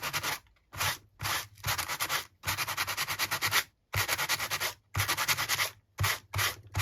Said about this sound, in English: I was just getting a sander to see